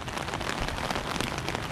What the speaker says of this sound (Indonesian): di Jeddah itu kalau diguyur hujan seperti ini